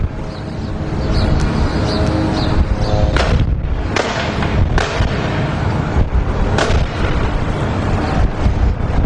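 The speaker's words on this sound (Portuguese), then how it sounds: "São disparos que estão sendo feitos agora." Live gunfire in Gaza, with repeated sharp shots and heavy bursts cracking over a dense, continuous rumble, loud and close, with no speech.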